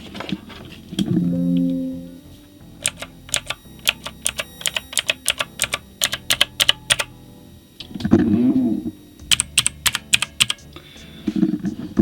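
Clicky, slightly hollow keystrokes on a Silvercrest Lidl mechanical gaming keyboard, typed close up in quick bursts with short pauses, alongside a few brief low hums.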